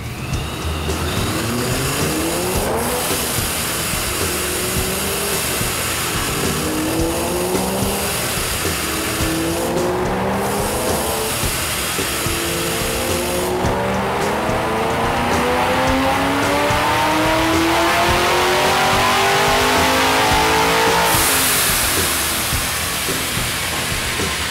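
A supercharged 2011 Ford Mustang 5.0 Coyote V8 with free-flowing exhaust roars on a dyno through two long pulls, its pitch climbing steadily each time and ending in a sharp drop, loud and close.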